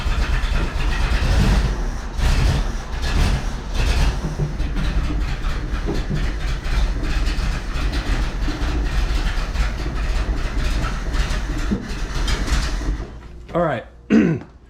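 Jeep CJ7 engine fitted with a new carburetor, loud and close, running roughly and continuously with revving under some coughing and throat clearing, then cutting out near the end.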